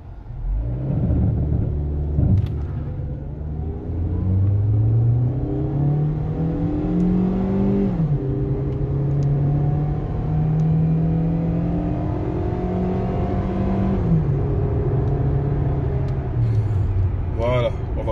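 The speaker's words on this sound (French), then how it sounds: "on va essayer encore une autre accélération" A Hyundai Elantra car accelerates from inside the cabin, its engine droning louder and rising in pitch through the gears, heard steadily and close.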